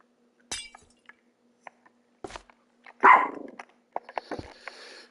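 A dog barks in a quiet apartment, giving one sharp yap and then a louder, raspy bark among scattered clinks and small knocks, with a faint background rustle.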